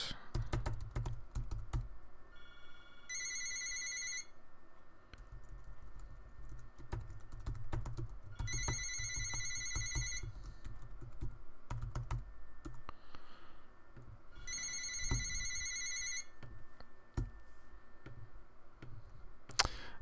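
A mobile phone rings in a repeating electronic pattern, three separate bursts of bright chiming tones spread out over time, heard beneath constant keyboard typing and mouse clicking at a desk.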